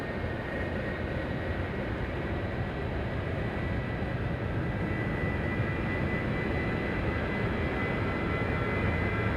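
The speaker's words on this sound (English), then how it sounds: "Southwest getting a move on over here on 23 left" Southwest Airlines jet rolling along runway 23 left at Raleigh-Durham International, a steady, broad engine rumble heard from a distance, constant and unbroken with no voices over it.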